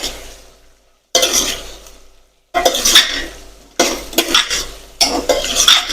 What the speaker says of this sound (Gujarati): આપણે તેને સારી રીતે મિક્સ કરી લઈશું.